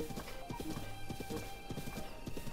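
Blue horse in The Legend of Zelda: Breath of the Wild, quick repeated hoof clip-clops in a video game at a steady trotting pace, close and moderately loud.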